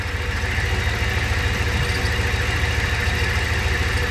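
A truck engine idles with a steady low rumble and a continuous hum from a worn tensioner pulley, close and unbroken for the whole stretch with no talk.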